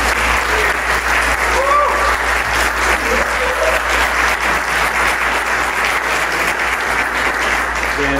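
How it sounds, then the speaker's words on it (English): A warm round of applause for Virginia rises from an audience at the Basilica Museum event, steady dense clapping filling the whole stretch at full volume, with faint voices threaded underneath. "let's thank her and give her a warm round of applause"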